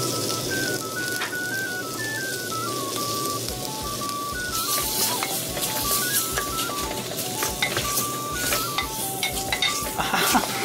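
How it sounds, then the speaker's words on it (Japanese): Whiteleg shrimp dropped into a clay pot already frying bacon in butter, a steady close sizzle with occasional stirring clatter and a tonal whistle line running through it. "エビ、バナメイエビ入れちゃいます。"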